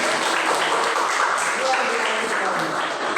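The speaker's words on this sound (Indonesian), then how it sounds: "Tepuk tangan buat dia." Pupils in a classroom clap for a classmate, a steady dense patter that sounds close, with voices mixed into the clapping.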